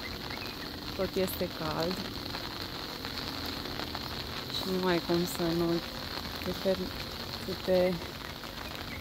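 Rain falls outside on the island of Bali, a steady, even hiss running throughout while a person talks over it.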